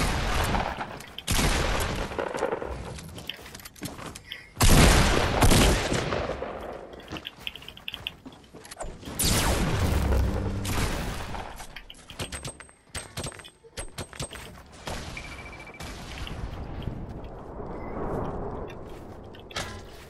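Rapid video game gunfire in a multiplayer shooter, with bursts of shots and heavy booms, several loud volleys close by and other shots farther off.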